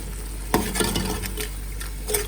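Yogurt and spices being fried in a pan over full flame for beef paya, giving a steady close sizzle with a couple of sharper stirring clatters and faint scraping, and no voices.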